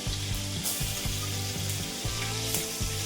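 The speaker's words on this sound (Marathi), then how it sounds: "लसूण इथे छान परतून घ्यायचं आहे" Garlic sautéing in a hot pan for pasta, a loud, steady close sizzle with a faint rhythmic low thumping pulse running underneath the whole time.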